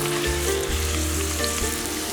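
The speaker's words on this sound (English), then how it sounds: "I am going to fry it in high flame." Potatoes frying in hot oil over a high flame for a mutton biriyani, a steady, dense sizzle with crackling running throughout, close and fairly loud with no talk.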